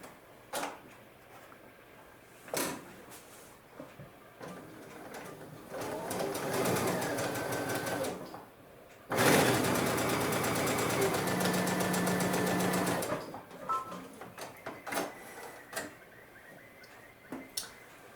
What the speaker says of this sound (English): again start sewing from that top edge, not the outer corner